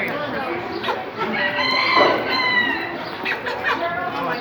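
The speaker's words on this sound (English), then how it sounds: "Baby chicken." Chickens at a 4H poultry weigh-in, with a rooster-like crowing call rising over clucking birds, close by and fairly loud across a few seconds.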